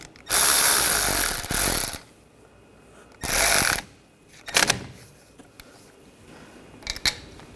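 A power tool tightens the front brake caliper bolts on a 2014–2020 Nissan Rogue in loud bursts, with two long whirring runs and then short sharp spurts separated by quiet gaps.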